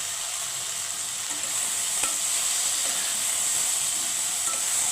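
Okra stir-fries with chili powder in a pan, making a continuous loud sizzling hiss with faint scraping and stirring ticks, heard alone without speech.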